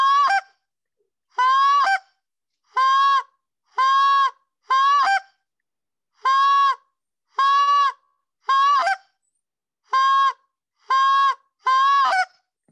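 A short reed goose call blown in a steady series of about eleven sharp two-note honks, each clear and close, separated by brief pauses, with no talking.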